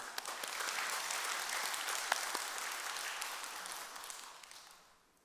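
A church congregation applauds during a Sunday sermon, a full room of clapping hands sustained at an even level before tapering off near the end.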